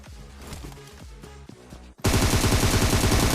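Automatic gunfire in PUBG Mobile, a rapid sustained burst that bursts in loud and dense halfway through, following a quieter stretch of game music and sounds.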